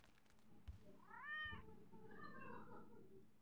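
A house cat meows twice, close and fairly clear, the first call rising and falling and the second shorter. A low thump and a faint background hum come before it.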